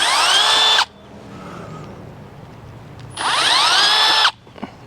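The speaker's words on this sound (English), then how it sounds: "And let the drill bit do the work." A power drill whines into the metal of a Jeep Gladiator in two short, loud bursts, enlarging rivet holes for a snorkel, its pitch sliding as it bites, with a quiet pause between them.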